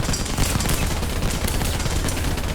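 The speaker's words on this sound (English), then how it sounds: "Machine gun?" Rapid machine gun fire from the War Thunder tank game, a dense, continuous burst of gunfire filling the whole moment at close, loud range with no pauses.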